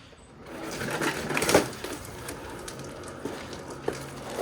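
An Ego 28-inch two-stage electric snow blower is driven on low power, making a quiet electric whine and hum that swells briefly. Scattered clunks and clicks sound nearby, with no talk.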